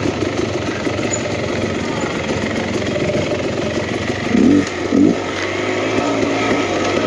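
A 2023 Beta X Trainer 300 two-stroke dirt bike rides a tight forest trail. The engine keeps up a continuous rattly drone, and a couple of brief throttle blips stand out near the end. It sounds close and loud, with no speech.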